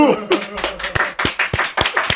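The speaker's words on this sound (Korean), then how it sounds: "박수" Clapping in a Korean interview studio after a lawmaker guest is thanked, a run of sharp, close hand claps at a quick, slightly uneven rhythm, with talk at the start.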